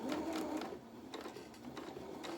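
Up close, a sewing machine stitches the edge of a fabric hood in a steady, fairly quiet whirring run with light rhythmic pulses.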